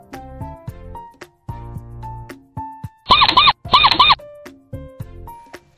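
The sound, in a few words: mouse squeaking, cartoon sound effect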